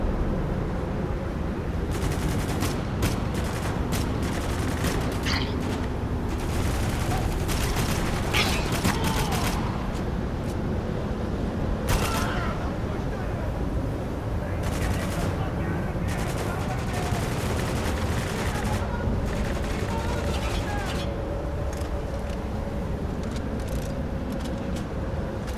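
Gunfire in the game Spec Ops: The Line, with repeated bursts and scattered shots crackling over a dense, continuous rumble of combat and vehicle noise during a sandstorm.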